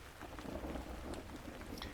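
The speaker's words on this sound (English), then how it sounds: "Healing is not an effort, it is a purification, just like this rain, cleansing the earth without any struggle at all." Steady rain falls without a break, a dense even hiss of drops on surfaces, fairly close and continuous for the whole stretch, with no voices.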